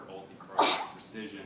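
A single sharp sneeze bursts out in an office presentation setting, brief and loud, amid a man's ongoing speech.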